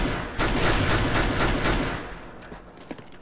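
Rapid gunshots in CS:GO, a dense volley of close, loud bursts that thins out into a few scattered shots as it fades toward the end.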